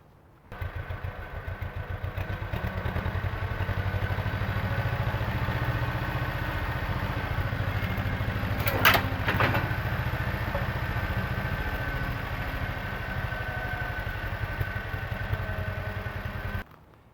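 A tractor engine runs steadily while lifting a load of firewood, a close mid-pitched mechanical rumble with a clattering undertone, briefly punctuated by a sharp metallic clank partway through.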